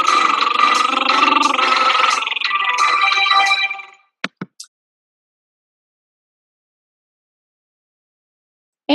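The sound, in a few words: singer doing a lip roll vocal exercise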